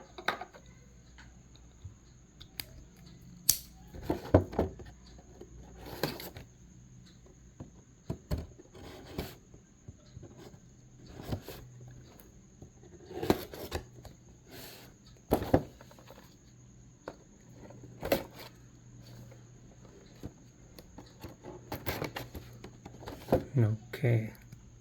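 Packaging of a Motor Max 1:24 scale Lamborghini Concept S model car being handled, with scattered taps, rubs and crinkles as the box is opened, close up and fairly quiet, while a person talks at times.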